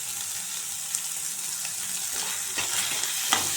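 Salted, boiled soybean chunks fry in a pan, giving a continuous close sizzle with light stirring taps and a couple of louder spatters toward the end.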